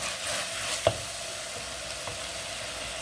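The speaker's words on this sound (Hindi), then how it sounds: "ऐसे अगर आप इसको थोड़ा सा फ्राई कर लेंगे प्याज और ऑयल के साथ" Onion fries in oil in a pan with a steady close sizzle, broken by a sharp stirring scrape and a softer one later, with no voices.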